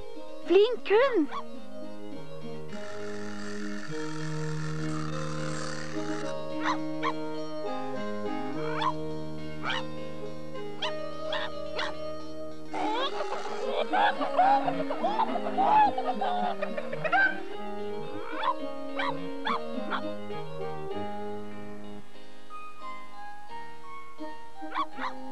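A farm dog in a Norwegian children's countryside programme gives a few short barks, partly masked by steady background music.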